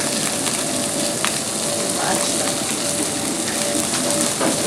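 Meat fries in a hot pan with a loud, dense, continuous sizzle and crackle, close up, with faint scraping or stirring noises mixed in and no talk.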